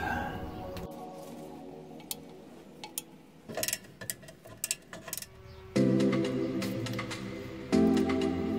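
A ratchet tightens brake caliper bolts on a Fiat Barchetta during a rear disc and pad change: quick bursts of close mechanical clicking, followed by steadier, denser ratcheting toward the end.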